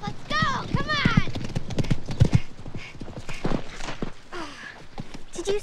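Horse hooves clip-clopping rapidly as a horse is run cold without warming up, loud rhythmic hoofbeats with a whinny, under overlapping speech from people nearby.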